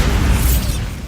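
A Bombarda spell explosion in Hogwarts Legacy during a Merlin trial, a short, loud, dense blast of broadband rumble and crackle that fades slightly within about a second, with no voices.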